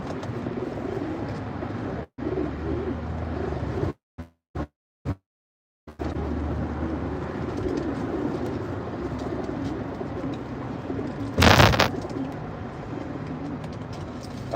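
Young racing pigeons at a loft coo in low, steady murmurs throughout, broken by a few short gaps and a brief louder burst near the end.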